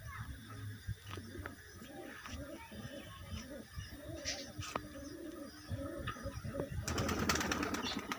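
Pigeons at a Bengali pigeon sale, mixed fancy breeds such as giribaz and kagzi, cooing in repeated low throaty bursts close by, with rustling and a rising clatter of wings and movement toward the end.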